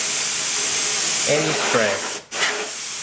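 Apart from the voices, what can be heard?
canned air spraying dust out of computer fans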